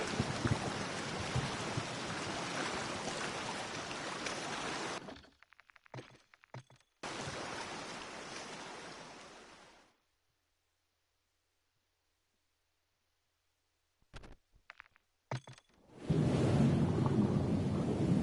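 Heavy rain and rumbling thunder from a storm in the video game Modern Warfare 3, loud and continuous, cutting out briefly, dropping to silence for several seconds, then returning at full strength.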